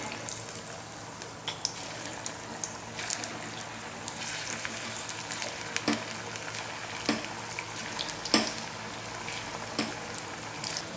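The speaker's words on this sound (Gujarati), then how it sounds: "તેલ આપણું ગરમ છે તો કટલેટ આપણે તેલમાં તળાવવા માટે મૂકી દઈએ" Cutlets for a fasting-day farali meal fry in hot oil on a high gas flame, giving a steady, quiet sizzle with a few soft pops and clicks throughout, and no voices.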